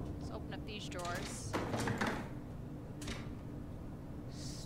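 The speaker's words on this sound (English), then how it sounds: "Let's open up these drawers." Drawers slide open in the video game SOMA with soft rumbling scrapes and a brief clunk, set against a steady ambient hum. Someone talks over part of it.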